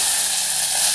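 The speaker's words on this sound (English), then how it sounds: "Drop those in, nice with a sizzle." Onions dropped into a hot pot hiss and sizzle in a steady, bright, loud frying crackle that fills the whole moment without pause.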